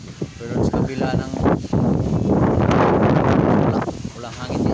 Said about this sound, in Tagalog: may lakasan ng hangin